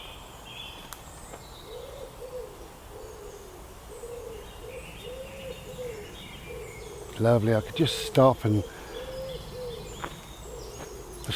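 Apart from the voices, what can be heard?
birds calling, owl hooting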